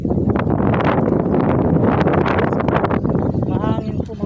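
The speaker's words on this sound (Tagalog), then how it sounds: "Oo, mahangin" Gusty wind rumbles steadily against the microphone while a person talks over it.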